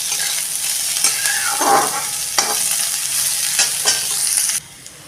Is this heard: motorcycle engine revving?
no